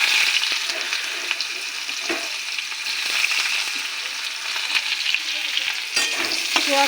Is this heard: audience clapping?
no